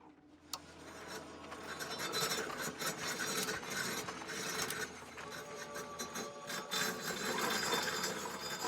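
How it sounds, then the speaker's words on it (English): In a puzzle video game, a continuous gritty scraping rasp plays as a background sound effect, fairly quiet and unbroken throughout, with no talk. "If there wasn't just like scraping sound effects in the background also, I wouldn't have such a headache while I'm trying to figure this out."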